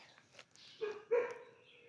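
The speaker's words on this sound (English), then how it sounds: "so now the dogs are going to start barking" A neighbor's dogs give two short barks in quick succession, somewhat distant outdoors, with quiet background between them and no talk.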